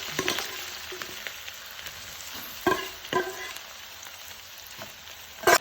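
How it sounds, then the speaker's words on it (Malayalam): Beef frying in hot coconut oil for beef chili, a steady soft sizzle with crackling pops and occasional louder spatters and stirring clinks, moderately close and without talk. "ഇനി അതിലേക്ക് നമ്മൾ ബീഫ് നല്ലോണം പൊരിച്ച് കൊടുക്കുക."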